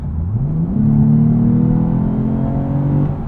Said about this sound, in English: It's just a little bit louder of an exhaust than I was expecting.